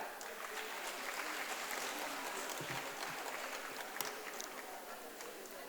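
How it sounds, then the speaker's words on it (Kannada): An audience at a Kannada literary conference claps for a group of women poets, a sustained, fairly faint patter of many hands with a few louder individual claps. "ಈ ಎಲ್ಲ ಕವಯತ್ರಿಯರಿಗೆ ಮೊದಲಿಗೆ ಒಂದು ಚಪ್ಪಾಳೆ"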